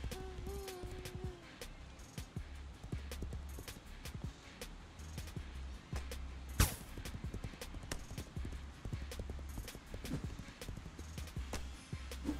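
Steady clip-clop of horse hooves from the Legends of Aria video game, a continuous rhythmic trot at moderate distance, with a brief whinny near the start and a sharp impact partway through.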